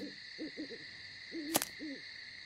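Owls hoot softly in short repeated calls, several quick hoots in a series, over a steady high-pitched hum with a brief sharp click midway.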